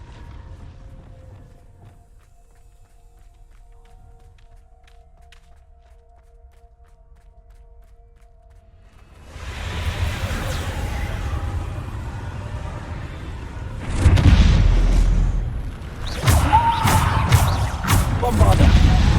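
Bombarda spell explosions in the video game Hogwarts Legacy during the third trial: a quiet, low rumble opens, then loud, rumbling blasts arrive with a sharper, louder burst near the end.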